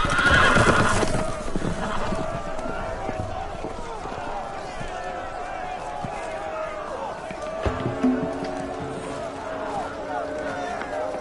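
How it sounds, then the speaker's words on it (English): Loose horses whinny and neigh loudly near the start, followed by hoofbeats and clattering movement amid a noisy, chaotic scene with voices mixed in. "horses! They're loose!"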